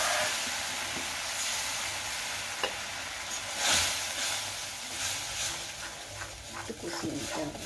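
Spice paste with yogurt and cashew paste sautés in a pan for a fish curry, giving a steady close sizzle with occasional scraping stirs and small spatters, no talking.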